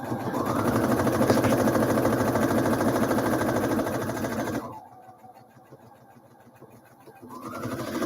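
A sewing machine stitches a buttonhole on a fabric remnant, running with a steady, fast mechanical whir that stops for a couple of seconds, leaving a quiet lull before the motor starts up again.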